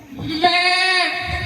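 A single loud, close goat bleat with a wavering, quavering tone lasting about a second.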